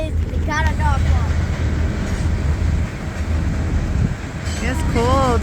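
A Norfolk Southern freight train rolls past eastbound with a steady, loud rumble of wagons and wheels close by, while a voice speaks briefly over the noise.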